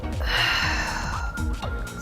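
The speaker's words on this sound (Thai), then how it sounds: "หายใจเข้าหายใจออก" Someone breathes in and out audibly during a lying-down exercise with a pillow held between the legs, the breaths heard over soft background music.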